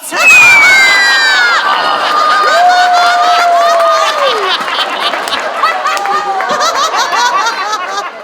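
A large crowd cheers and shouts loudly, with high excited children's voices, whoops and scattered laughter rising and falling continuously.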